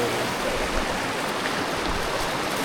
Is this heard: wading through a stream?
yes